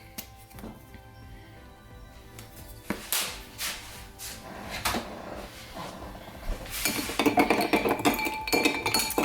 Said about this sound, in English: So just gonna add a little bit of pumpkin spice and mix it up.